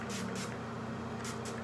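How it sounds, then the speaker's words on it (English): Evening Detox Brown Exfoliant misted onto skin in a few short close spray bursts, two in quick succession and then two more after a pause, over a steady low background hum. "You spray it on yourself"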